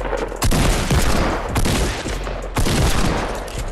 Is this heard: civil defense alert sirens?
no